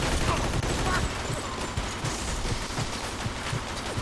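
Rapid bursts of gunfire in Mafia 2 crackle repeatedly over a noisy background, shots coming in quick uneven volleys.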